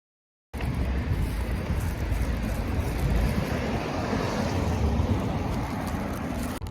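River water flows in a continuous broad rush outdoors, a steady near wash with no talking.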